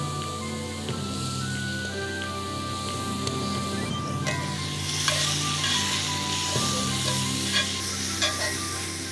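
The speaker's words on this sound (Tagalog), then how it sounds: "gigisa na natin yung ating mga aromatics" Aromatics sautéing in a pan for tomato chicken rice made with Ayam Cemani chicken, with a steady close sizzle and frying hiss plus occasional utensil scrapes and stirs, alone without talk.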